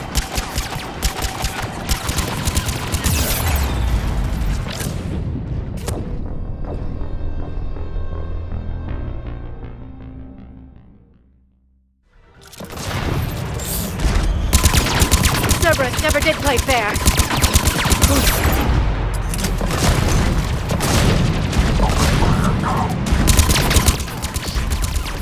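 Heavy automatic gunfire pounds in Mass Effect Legendary Edition, loud sustained rattling volleys that fade to near silence partway through, then return just as dense, with voices talking amid the fighting.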